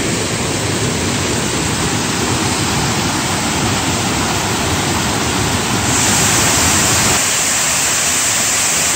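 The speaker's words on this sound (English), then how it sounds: "This is Upper Avery Creek Falls." Upper Avery Creek Falls in Pisgah National Forest, North Carolina, roars loudly and continuously nearby. Falling water makes a dense, unbroken rush.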